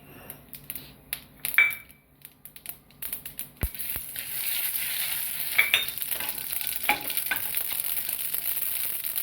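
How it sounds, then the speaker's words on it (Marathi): Mustard seeds splutter in hot oil in a home kitchen. Sharp crackles and pops come in bursts, then settle into a steadier sizzle that grows fuller toward the end. "मोहरी तडतडली, जिरं टाकायचं."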